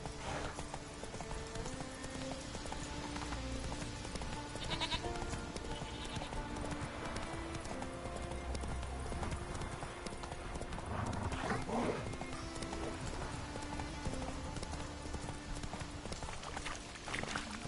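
Roach, the horse in The Witcher 3 video game, clip-clops along with a steady, continuous hoofbeat rhythm, with occasional character dialogue and ambient game sounds layered over it.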